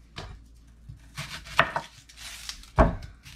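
An onion being chopped with a knife for cabbage soup, heard as a few irregular, close knife strikes and thuds on a board, with one heavier chop near the end.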